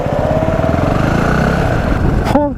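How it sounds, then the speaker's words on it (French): A Ferrari sports car roars past a motorcycle on a road, its loud engine note sweeping by at close range and fading out over a steady engine hum. "laissez passer une petite Ferrari"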